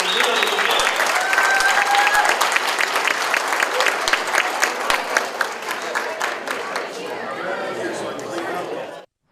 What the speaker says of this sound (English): A round of applause to all the candidates and everybody who put together.